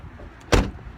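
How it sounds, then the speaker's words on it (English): Dodge Dakota truck door swinging shut in a single close, solid thump. "Let me close the door."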